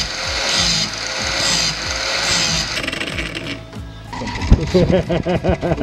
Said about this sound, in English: So we're going to chamfer, just this little edge there, just take that off that corner and kind of make it a 45-degree job-ish.